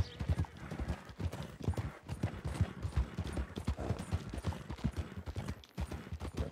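Horse hooves clip-clop in a video game, a quick galloping rhythm of close, distinct hoof strikes, with a brief neigh and faint speech in the background.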